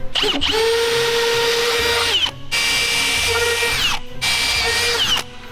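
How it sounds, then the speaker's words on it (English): A power drill bores holes into wood in three sustained whining runs, loud and near, each ending abruptly with short gaps between. "We're gonna drill a hole and run bolts through it."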